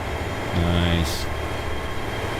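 A Class 150 diesel train in Train Sim World 6 pulls away with a rising engine drone that swells briefly before settling into a steady hum, heard fairly close with no talking.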